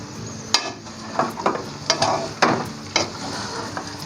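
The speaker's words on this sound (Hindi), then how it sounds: "देखिए हलवा नीचे लगता है इस तरह से और इसको खेड़ना पड़ता है।" Semolina halwa being stirred and scraped as it roasts in a pan, a utensil making repeated scraping strokes about every half second, close and moderately loud with no talk.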